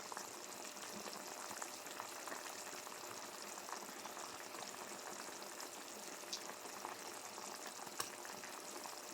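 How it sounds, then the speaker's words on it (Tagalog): Chicken feet adobo simmering in a pan, a faint, continuous bubbling and sizzling hiss that stays even throughout with no voices. "Paigayin lang natin ang water"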